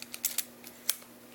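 The film advance lever on a vintage Canon TX SLR film camera is wound, giving a few soft, quick mechanical clicks and ratchet ticks, faint and close, with a quiet steady hum underneath.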